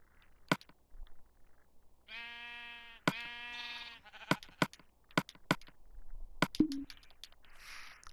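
Sheep bleating in the video game Minecraft, several drawn-out bleats in a row near the start, then sharp clicky game sounds and a few short bleats, fairly quiet overall with no talk.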